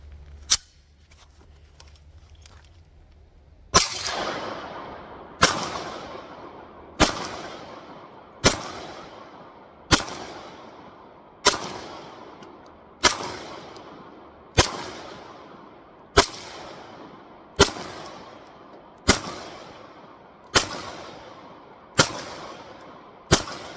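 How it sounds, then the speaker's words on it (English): A Glock pistol fitted with a Lone Wolf conversion barrel fires 150 grain 9mm rounds slowly outdoors, sixteen loud sharp shots spaced about one and a half seconds apart, each trailing off in a brief echo. "We're just going to do a nice slow fire and just see she performs."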